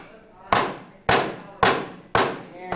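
A hammer smashes radishes in a kitchen, four sharp, loud blows evenly spaced about half a second apart, each ringing briefly before the next strike.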